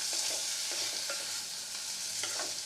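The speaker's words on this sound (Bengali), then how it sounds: "একটু কষিয়ে নেবো সসটা দিয়ে।" Masala fried with sauce for an egg curry hisses in a steady bright sizzle, while a spoon scrapes and stirs through it a few times, close up, with no voices.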